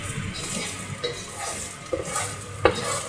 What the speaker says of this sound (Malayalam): ഇളക്കി യോജിപ്പിക്കുക.